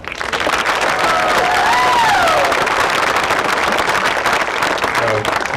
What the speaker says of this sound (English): I would classify that as polite applause.